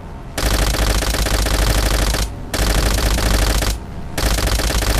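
Sustained automatic gunfire in the World War II shooter Call of Duty: World at War, loud and continuous bursts with two brief pauses, no talking over it.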